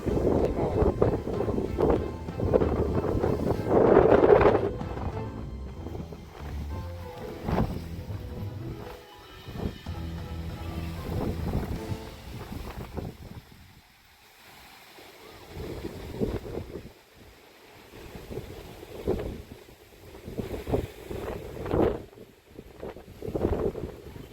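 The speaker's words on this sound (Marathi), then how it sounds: "वारा एवढा जबर सुटला अक्षरशः अंगावरती काटे येते ते वाऱ्याने" Strong gusting wind buffets the microphone at Mhaismal hill station in rain, a loud rumbling roar that surges and fades in waves, dropping briefly quieter before rising again.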